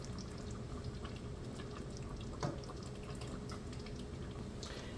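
Half and half is poured into a simmering cheeseburger soup, a faint, steady liquid trickle and bubbling with soft drips.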